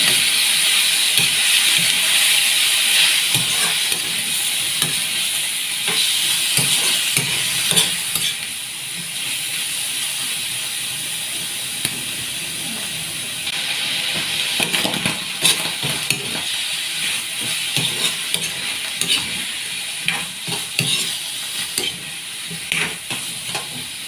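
Mushrooms stir-fried with mixed vegetables in a pan, a steady close sizzle and hiss with repeated scraping and clinking of a utensil stirring against the pan throughout, no talking.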